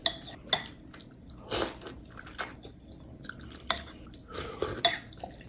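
Someone bites into and chews a large, juicy crab meatball from Vietnamese bún riêu, with close wet mouth sounds, soft crunches and a few light clinks of cutlery against a bowl.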